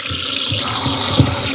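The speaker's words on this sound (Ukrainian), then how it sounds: "я знову все дротиками помила, почистила і заливаю знову холодною водою." Cold water pours into a pot of pork knuckle and skins for a meat jelly, a close, steady gushing splash that runs throughout without talk.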